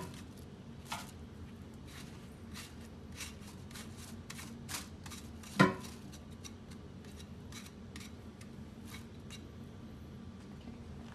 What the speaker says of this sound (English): I'm just going to de-seed all the slices like that